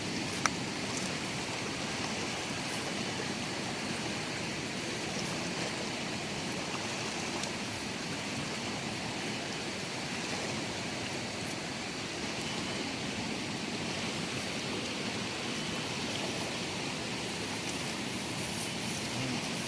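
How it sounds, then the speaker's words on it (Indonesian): Rain falls on the Krueng Baru river as a soft, steady hiss that continues evenly throughout, faint and distant, with no voices. "Sepertinya hujan sudah mulai turun lagi."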